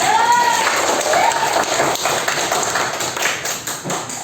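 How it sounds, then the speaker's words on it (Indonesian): Schoolchildren clap together in a classroom, a dense, sustained patter of many hands with voices mixed in, near and fairly loud and fading slightly toward the end. "Tepuk tangan buat kita semuanya"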